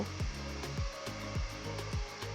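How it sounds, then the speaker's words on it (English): Steady, loud blowing whoosh of a hair dryer running close up, warming adhesive glue, with a faint rhythmic rubbing or scraping repeating underneath about twice a second. "use a hairdryer to warm up the glue"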